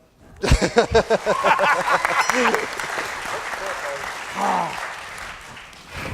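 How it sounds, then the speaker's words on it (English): Audience applause at a debate event, starting suddenly and loud with sharp bursts, then settling into a steady mass of clapping that fades gradually; a voice briefly rises within it. "Thanks for the applause."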